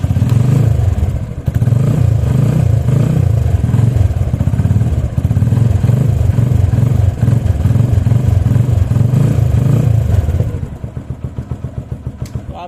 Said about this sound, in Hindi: दोबारा से हम इसको सेल्फ स्टार्ट दे रहे हैं।